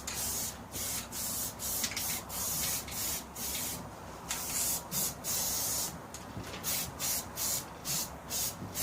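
Rust-Oleum primer sprayed from a can onto a Brinly plow, heard as repeated short hissing bursts with brief pauses between them, fairly close and steady.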